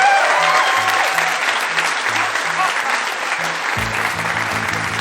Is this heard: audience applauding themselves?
yes